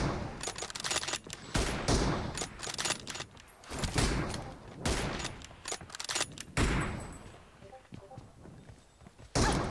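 Rapid bursts of gunfire from a BGMI battle royale match crackle in dense volleys across the whole stretch, loud and busy, with a voice talking over part of the action.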